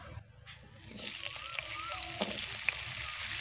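Carrot pieces frying in hot oil in a pan for a Bengali shukto, a steady soft sizzle with light splatter and an occasional stir, moderately close and continuous.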